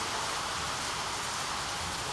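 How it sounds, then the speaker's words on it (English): Dense, steady hiss of hail drumming on a hard tin roof, constant and close, with no voices. "I love hearing the sound of either the rain or the hail."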